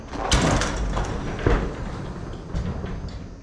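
A LiftMaster-equipped garage door is pushed up by hand to about halfway, giving a few loud rumbling clunks and a steady rolling rattle of the panels along their tracks, close by and without talk.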